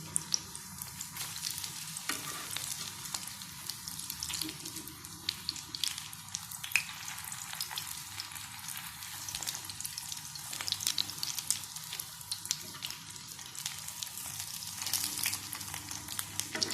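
Aloo tikki potato cutlets frying steadily in a pan, a continuous crackling sizzle running throughout with occasional sharper pops, no voices.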